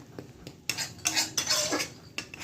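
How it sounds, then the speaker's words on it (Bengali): Poppy seed paste stirred into gravy in a pan for an okra dish, giving a few loud scraping and clinking strokes of a utensil against the pan in uneven bursts, close by with no talking. "পোস্ত বাটাটা দিয়ে একটু নাড়তে হবে"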